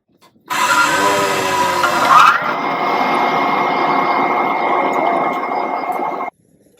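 Power drill with a 7mm bit bores into a fountain pen blank, a close, loud whining grind that starts abruptly, rises in pitch midway, holds steady for about six seconds and then cuts off.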